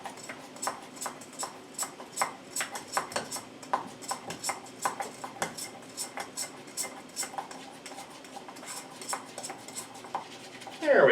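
Peanut butter mixture stirred with a whisk or spoon, producing a long run of rhythmic clinks and taps against a bowl, close and steady, with occasional soft talking underneath.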